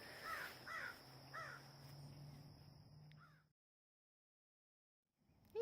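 Pet bird Jackson calls out in a few rough, crow-like squawks near the start, with a steady insect-like hum underneath before everything drops to silence, then a brief sound returns at the very end.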